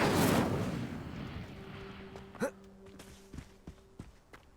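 A Hogwarts Legacy Incendio fire spell bursts with a loud whoosh, fades into a low rumble, then a few short magical pops and tones follow.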